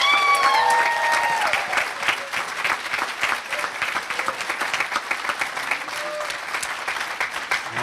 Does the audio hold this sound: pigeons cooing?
no